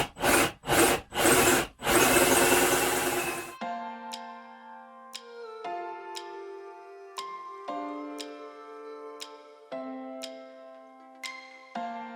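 A handsaw cuts a hole in wood in four quick, loud rasping strokes, then stops; sharp ticking knocks and ringing resonant tones follow in an irregular sequence.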